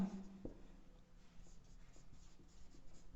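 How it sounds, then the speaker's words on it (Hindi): A teacher writing notes for a chemistry lesson, with faint, soft scratching strokes at a steady pace in a quiet room, one slightly louder tap near the start. "चलिए पहले मैं पॉइंट लिख लेता हूं।"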